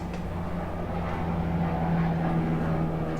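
Airplane passing overhead during a quiet indoor moment, a steady low droning rumble with a hum that holds at an even level throughout, distant and continuous with no talking.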